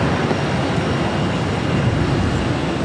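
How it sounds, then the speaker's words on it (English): A Delta A330neo airliner arriving from Paris at Boston Logan, a steady broadband jet roar with a heavy low rumble, loud and constant without breaks. "This is Delta 225 coming in from Paris on the A330 Neo."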